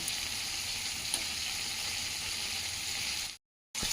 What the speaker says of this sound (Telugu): మిరపకాయలు అట్లనే వేసుకుంటే వస్తాయి ఇట్లా వేగుతుంటే నూనెలో చిచ్చి వస్తాయి